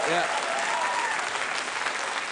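A late-night talk show studio audience breaks into loud, sustained applause, a continuous crowd clapping with faint voices mixed in.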